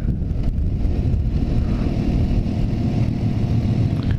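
A Suzuki GSX-S 750 motorcycle engine drones steadily while riding, heavy wind rush over the microphone burying any clear downshift, loud and continuous throughout.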